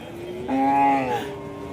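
A single long, loud cow moo rings out close by at the Kundadam cattle market, rising and then fading over about a second, with a faint crowd murmur underneath.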